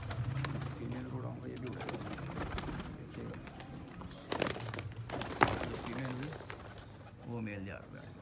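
Pigeons cooing in a low, steady murmur at a backyard loft, with wings flapping as birds take off and someone talking throughout.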